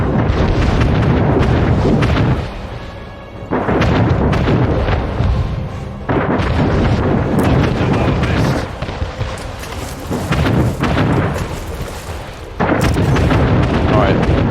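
Naval cannon fire and explosions in the Anno 1800 game sound out in loud, dense bursts of booming blasts that almost never stop, with only brief dips before the barrage resumes.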